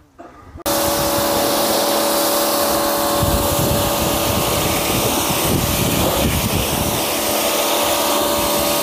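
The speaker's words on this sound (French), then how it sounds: "ce que je vais faire, c'est qu'on va déjà rincer pour voir" A car is rinsed with a pressure washer, the machine starting abruptly and then running as a loud, steady droning spray with a constant motor whine throughout.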